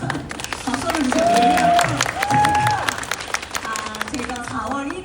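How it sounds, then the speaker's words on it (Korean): Applause from the audience at a book talk, a few seconds of clapping and light cheering mixed with voices talking over it. "박수를 주세요."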